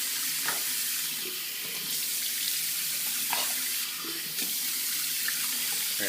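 Tap water runs steadily into a sink to wet a shaving brush, a continuous close hiss and splash with small shifts in the flow, with no one speaking.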